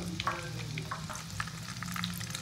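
Chilli chicken pakoras drop into hot oil in a home kitchen and fry, giving a steady close sizzle dotted with bursts of crackling and popping, with no talking.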